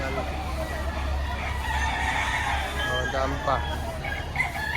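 Chickens at a busy poultry market in Lipa, Batangas cluck and crow in a steady babble, with a low hum underneath and a brief voice speaking.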